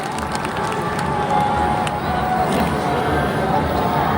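A large crowd at a poetry gathering claps and cheers steadily in a dense, continuous wash, with murmuring voices mixed into the sound.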